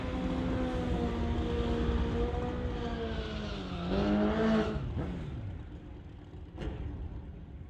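Superbike motorcycles at a bike drag-racing event, a loud engine drone with rising and falling revs and a strong swelling pass near the middle, continuous with no talk.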